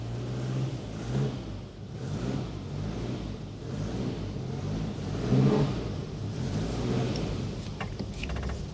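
A Citroen GSA engine runs and revs as the car is driven out of a barn, a close mid-pitched drone that swells and dips with throttle, with a few small clicks near the end.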